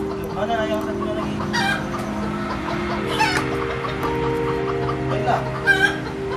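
Chickens cluck and a rooster crows repeatedly in a flooded yard in Banda Aceh, a hen with chicks nearby; birds call near and mid-distance over steady background noise.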